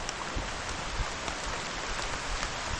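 Steady rain pours down in the Philippines, a dense, even hiss of drops with occasional heavier splats, continuous and fairly close.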